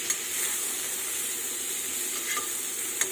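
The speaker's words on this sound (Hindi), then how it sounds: "इसको थोड़ा सा फ्राई कर लेंगे आलू को" Potatoes fry in a pan with a continuous, even sizzle and hiss close up, broken by a few faint scraping ticks near the end.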